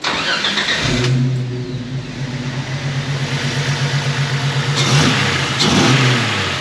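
A 1995 Jeep Wrangler with a 4.0 engine starts and revs close up, settling into a steady throbbing idle before rising again in a couple of loud revs, with no talk.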